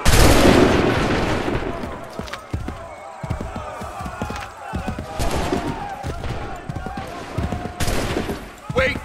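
Gunfire volleys in the Assassin's Creed III video game ring out in dense bursts of overlapping shots and booms, with loud cracks at the start and again later amid battle noise and shouted voices.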